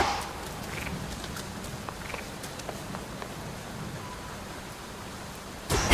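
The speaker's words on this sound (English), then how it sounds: "Raining again." Steady rain in a video game, Hades 2, patters across a surface, with scattered drops and light taps standing out over a constant hiss, ending in a louder burst.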